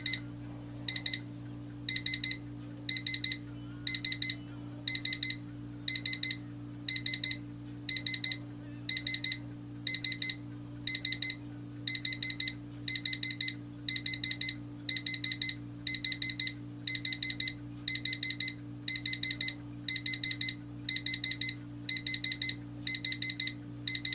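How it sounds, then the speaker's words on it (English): A SMARTRO SC91 projection alarm clock beeps in quick repeating bursts, steady and insistent for over twenty seconds, with a constant low hum underneath. "So here's the alarm, but as you can see, it does different things."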